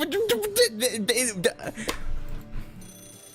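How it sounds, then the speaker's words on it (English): In the video game Fate/Grand Order, a phone rings after a voice speaks, the electronic ringing coming through faintly toward the end. "Oh, another phone call."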